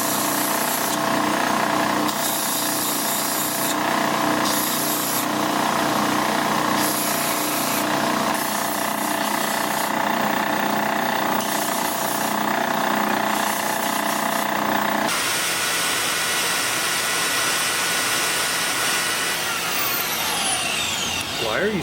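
A belt grinder in a bladesmithing shop grinds the edges of steel billets with a continuous loud, rasping roar over a whining motor tone. The grinding pulses as pressure changes, then steadies in the last few seconds.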